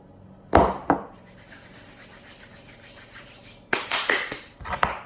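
Garlic salt being rubbed into a steak by hand, heard as a few close rough scraping and rubbing strokes, a pair near the start and a cluster near the end, with quiet in between and no talk.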